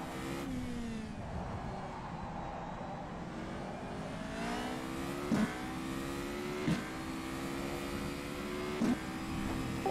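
A Formula Renault 3.5 single-seater in a sim racing game screams at full throttle down a straight, its steady high engine note rising through several sharp upshifts, close and alone.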